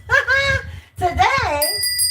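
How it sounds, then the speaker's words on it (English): A bell rings with clear, sustained ringing tones that start partway through and continue to the end, sounding over a voice talking during a live broadcast. "So today, let's ring the bell."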